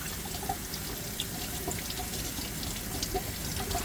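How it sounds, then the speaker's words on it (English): Tap water runs steadily over fresh cilantro and herbs being rinsed, a continuous close hiss of flowing water with faint splashes, no talking. "and I'm going to rinse these."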